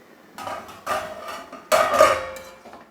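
Metal spoon scraping and clinking against a pot as prawn and bottle gourd curry is stirred, a few soft bursts of clatter close by with no talk.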